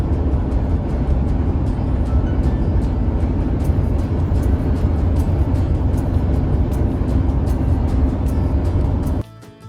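A car on a family road trip through Tennessee gives a steady loud cabin rumble of engine and road noise that ends abruptly near the end.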